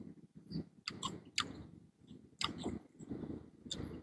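Crunchy fried pork crackling is chewed up close, with several crisp bites and crackles spaced irregularly over a few seconds, quiet overall with no talking.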